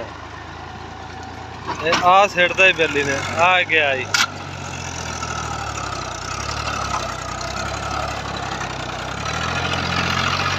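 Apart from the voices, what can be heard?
Fiat 450 tractor engine running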